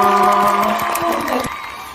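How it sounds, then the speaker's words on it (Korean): Audience applause at a Korean author's lecture, a dense burst of clapping and some cheering that fades over about two seconds, with sustained instrumental tones underneath. "박수 한번 보내주세요."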